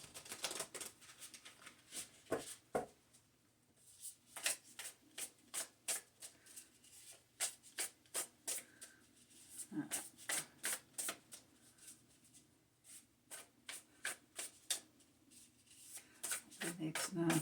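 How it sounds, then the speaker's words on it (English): Tarot cards shuffled by hand in a quiet room, a long run of crisp riffling bursts and soft slaps that come in quick clusters with short pauses between. "I'm just going to just finish the shuffle"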